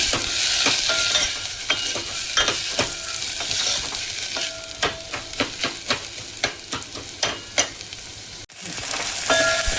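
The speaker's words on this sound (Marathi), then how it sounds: "आता आपण ह्यामध्ये टाकत आहोत हा कांदा, याला पण तांबूस रंगावरती लाल करून घेऊया कांदा।" Onion frying in oil in a pan for dal amti, a loud, steady sizzle heard up close, with frequent sharp scrapes and taps as a spoon stirs it.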